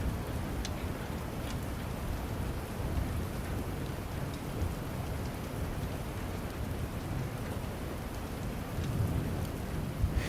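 Steady, dense rainfall hisses and patters close by, with a low rumble of distant thunder underneath and no voices.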